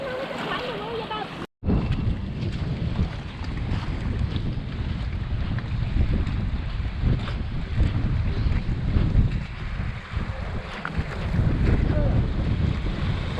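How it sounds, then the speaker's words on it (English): Strong wind buffets a Hobie Mirage Tandem Island sailing kayak on Redfish Lake, roaring steadily and loudly across the microphone with a brief cut near the start, while waves and water wash underneath. "A little breezy today, whitecaps all over the lake."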